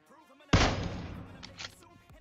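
A single sharp gunshot in PUBG Mobile cracks out loudly and decays over about a second, followed by a couple of faint clicks, with no talk over it.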